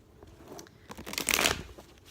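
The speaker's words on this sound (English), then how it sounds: "I shuffled a bunch of times." A deck of cards being shuffled up close, a soft riffle building into a brief, dense burst of flapping card edges before settling, with no one speaking.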